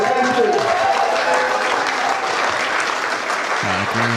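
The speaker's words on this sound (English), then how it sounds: "I'd like a big round of applause for the routers" Loud, sustained applause from a crowd at a climbing national championship bouldering final, dense clapping throughout with a few cheers rising near the end.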